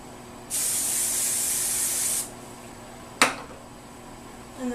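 A long hissing spray from a spray bottle onto hair lasts under two seconds, followed by a short sharp second burst, close and clear against a quiet room.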